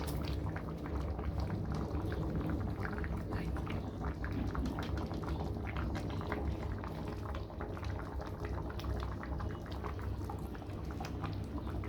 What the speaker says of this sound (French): je vais mettre l'huile rouge